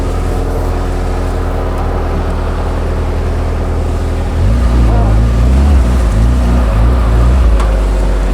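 A loud, close military buggy engine drones steadily, then revs up sharply midway into a harder, rougher roar that keeps pulsing.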